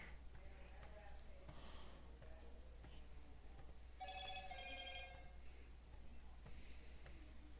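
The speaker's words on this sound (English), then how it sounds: "That's my notifications." A streamer's phone or computer gives a notification, a short electronic ringing chime that stands out about midway through, faint under low background noise.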